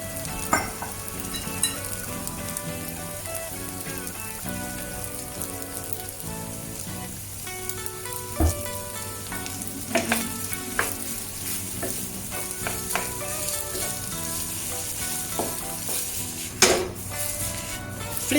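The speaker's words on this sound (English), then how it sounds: "Flip and stir the rice until it turns fragrant and well combined." Rice fried with ketchup and a little soy sauce for omurice sizzles steadily in a pan, with repeated close scraping and tapping as a utensil flips and stirs it, punctuated by a few louder knocks.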